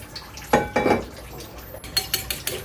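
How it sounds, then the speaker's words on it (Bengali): Chicken pieces being turned in a pan of mustard oil on low heat, heard as a few sharp clinks and scrapes of a utensil against the pan in quick bursts, with no talking. "আস্তে আস্তে উল্টিয়ে পাল্টিয়ে আমি তা ভেজে নেব"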